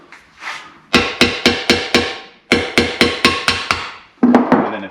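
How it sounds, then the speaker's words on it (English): A claw hammer strikes metal in two quick bursts of about six and seven sharp, ringing blows, then a few more at the end, loud and close while work is done on a barn-find Volvo Amazon's engine. "Famous claw hammer."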